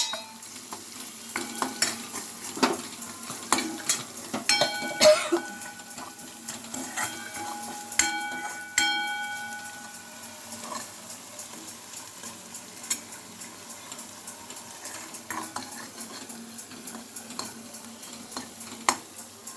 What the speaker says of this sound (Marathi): हे मिश्रण छान भाजेपर्यंत परतायचं आहे।